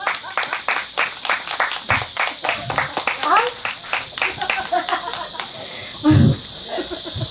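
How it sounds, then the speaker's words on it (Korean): Audience mothers at a Korean pumba street performance clap together in a steady, even rhythm, with the performer's voice and other talk running over the clapping. "박수 한 번만 주세요"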